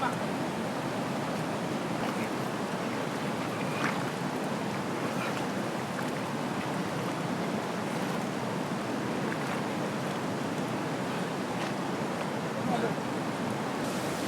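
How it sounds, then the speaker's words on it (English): Stream water diverted into a channel at a mountain monastery rushes steadily and continuously, a broad noisy flow heard close by with no clear breaks. "the monks divert water from the stream into the channel"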